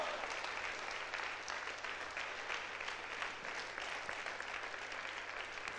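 A conference audience claps continuously in a dense, even wash of applause, steady throughout and moderately distant, with no speech.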